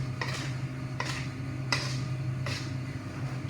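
A spoon digging into food and scraping, four separate strokes about a second apart over a low steady hum, close and fairly quiet, with no talking.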